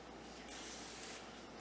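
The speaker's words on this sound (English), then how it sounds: "I just like using the non-stick spray just in case" Non-stick cooking spray hisses from a can into a cake pan with a removable tray; one continuous spray burst, close and steady, with a brief stronger middle, no talk.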